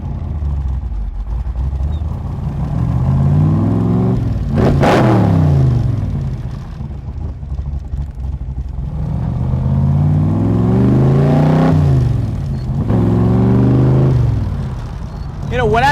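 A Backdraft RT4 Cobra with a Roush 427 V8 accelerates in loud, deep bursts, the engine rising through several sweeping revs and gear changes, each climb dropping back before pulling hard again, heard close up as it drives.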